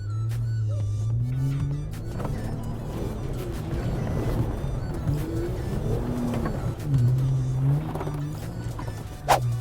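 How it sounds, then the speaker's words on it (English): A 2018 Jeep Wrangler JL in 4 low pushes through a muddy track, its engine droning and revving in rising and falling surges, close and loud, with splashing and knocks underneath. "The JL took that mud, no problem."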